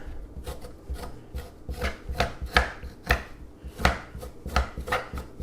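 A spoon scrapes the skin off fresh ginger root in about a dozen close, rasping strokes with an uneven rhythm, with no voices.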